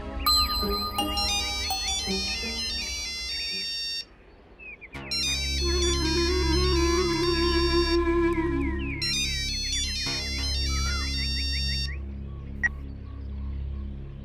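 A bright electronic phone ringtone melody plays loudly and repeats in cycles, with a low pulsing beat joining after a short pause; no one speaks.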